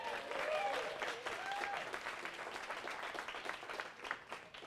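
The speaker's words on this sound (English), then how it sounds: "let's give a round of applause to our streaming guests who have joined us" An audience at a live indoor evening event applauds in a dense, sustained wash of clapping that holds steady throughout, with a few faint voices and whoops mixed in.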